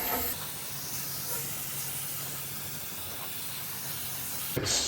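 Loctite gasket remover sprayed from a can onto an engine gasket on a Rover V8, a steady close hiss lasting several seconds before cutting off near the end, with no one speaking.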